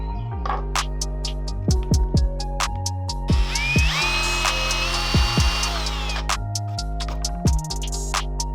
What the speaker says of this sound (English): when I drill the hole for the side pieces